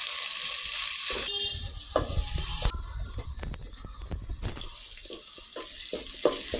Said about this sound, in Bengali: এবার একটা পাতিলে পেঁয়াজ কুচি, কাঁচামরিচ কুচি আর পরিমাণ মতো তেল দিয়ে ভালোভাবে ভাজতে হবে।